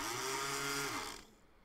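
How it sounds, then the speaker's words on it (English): Three motors of an OWI Edge USB robot arm whir together with a steady electric whine for about a second, then spin down and stop, leaving near silence. "Three of the motors went at once."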